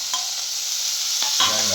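Grated coconut is stirred and sautéed in a hot pan, giving a steady sizzle with a few scraping strokes of the spoon close by, and no one speaking.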